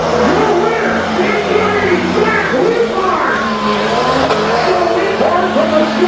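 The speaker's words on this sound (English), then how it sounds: "but Leibart cleared the double on the backside as he heads toward the finish line" A tough truck engine revs loudly at Jennerstown Speedway during a monster truck event, its roar steady throughout with squealing tires and crowd noise, while an announcer talks over it.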